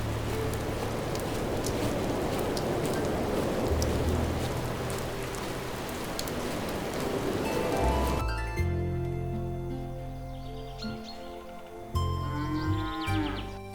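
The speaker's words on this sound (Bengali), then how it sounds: "ভীষণ জোরে বৃষ্টি নামলো।" Heavy rain in an animated cartoon pours steadily in a dense, continuous hiss, then gives way to quieter dripping with tonal background sounds.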